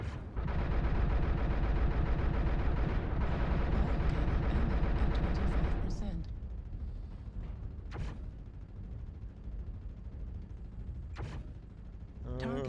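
A rotary autocannon (RAC 5) firing in MechWarrior Online: a dense, rapid rattling burst lasts about six seconds, then stops, leaving quieter mechanical rumble and a few isolated sharp shots later.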